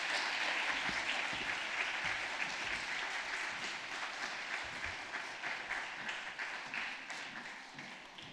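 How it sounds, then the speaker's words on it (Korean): Church congregation at a Sunday afternoon service claps for its young adults back from a short-term mission trip to Thailand, a dense sustained round of applause that slowly tapers off over several seconds. "우리 청년들에게 격려 박수 한 번 더 부탁드립니다."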